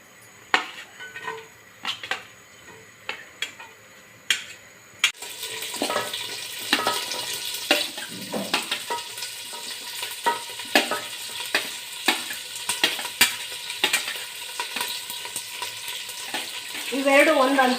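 Chopped green chillies hit hot oil in a pan for a Malenadu-style mutton sukka, starting with sparse clinks and taps, then a sudden loud sizzle that keeps going under repeated scraping and stirring strokes.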